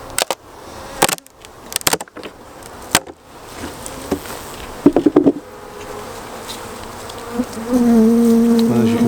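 Honey bees buzzing loudly in an opened beehive, close and constant, broken by sharp knocks and cracks of hive parts being pried apart, with the buzzing swelling higher and stronger toward the end.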